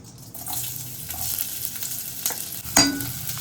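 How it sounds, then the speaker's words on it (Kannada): Onions frying in oil for pasta, a steady close sizzle with stirring scrapes and one sharper clatter near the end. "ಎಣ್ಣೆ ಹಾಕಿ ಗಾಯ್ಸ್ ಈರುಳ್ಳಿ ಹಾಕೊಳ್ಳಿ."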